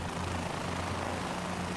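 A hovering helicopter in Microsoft Flight Simulator 2024 gives a steady, loud droning rotor and engine roar with a low thrumming pulse, unbroken throughout and without voices.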